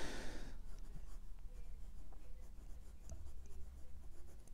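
A Moonman M2 fountain pen with a fude nib writes on Rhodia paper, a faint continuous scratch of nib on smooth paper heard close and alone.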